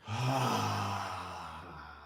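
A single deep, slow breath drawn in and let out in a calm relaxation exercise, close and steady, airy and unbroken for about two seconds, with no talking.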